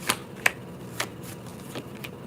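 Tarot cards are gathered and shuffled up close, a handful of crisp, papery flicks and snaps spaced irregularly over a quiet background, with no talking.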